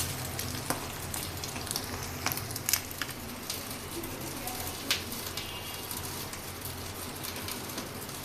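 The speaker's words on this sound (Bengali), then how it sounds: "ডিমটা আমি ভাজে নিলাম।" An egg frying in a pan crackles and sizzles steadily at moderate volume, with scattered sharp pops and a pigeon cooing faintly in the background.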